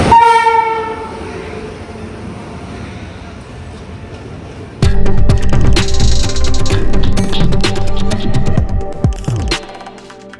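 A train at a Mumbai railway station sounds its horn: a brief tone at the start, then a loud, sustained blast over heavy rumbling and clanking wheels that carries on for several seconds before cutting off.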